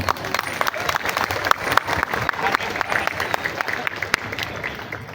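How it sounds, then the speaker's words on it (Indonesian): A crowd of village officials, clerics and residents claps for the organizers at an outdoor National Santri Day (HSN) 2025 ceremony in Silo district, a dense, steady burst of applause lasting throughout, with faint background murmur. "Tepuk tangan untuk panitia."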